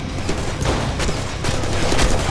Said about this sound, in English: I'll use a shotgun, it's powerful.